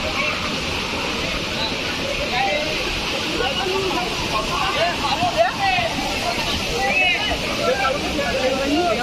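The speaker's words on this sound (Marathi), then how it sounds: "तर आता सगळे पोहत आहेत" A crowd swimming and splashing in open water at a busy public bathing spot: a steady wash of sloshing water and distant babbling voices, with chatter mixed throughout.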